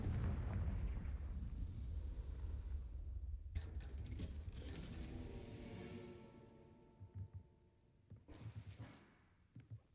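The Confringo fire spell explodes in Hogwarts Legacy: a rumbling blast that fades, then sharp crackling bursts a few seconds later, with scattered smaller pops trailing off.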